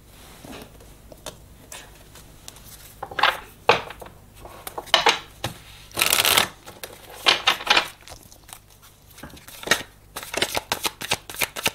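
Tarot cards shuffled and handled in bursts of crisp riffling and slapping, loud and close, with quiet gaps between the flurries.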